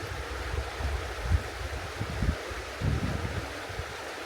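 A river flows past in the countryside in August, a steady rushing wash with low rumbling surges and some wind buffeting, heard up close with no voices.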